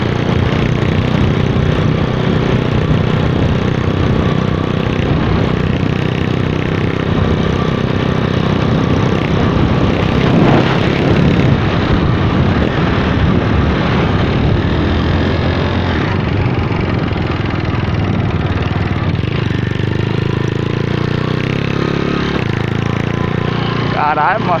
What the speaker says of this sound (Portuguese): a moto tá forte